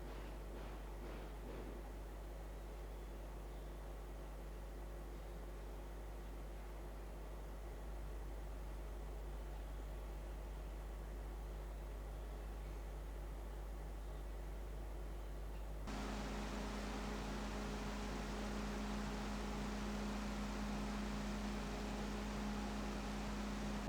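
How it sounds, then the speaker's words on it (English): Cooling fans of a Segotep WC Halo 240-BL budget AIO liquid cooler run steadily with a faint, even low hum and soft airy whir, growing slightly louder partway through, with no talking. "I found that the noise made by the fans seemed to be the low humming type of noise"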